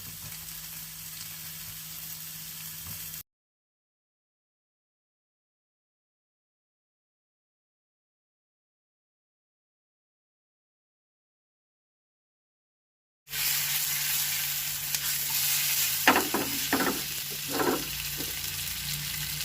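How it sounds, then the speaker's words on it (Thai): Ham fries in a pan with a soft, continuous sizzle, heard in two stretches split by a long silent gap, the second stretch louder with a few light stirring clicks; no talking. "คุณเช่นจะใส่แฮมด้วยนะคะ"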